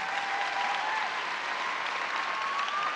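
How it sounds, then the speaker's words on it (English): Sustained audience applause at an outdoor opening ceremony of the National Cherry Blossom Festival, a steady dense wash of clapping from a large crowd at even loudness throughout, with no talking over it. "Please give them a big round of applause."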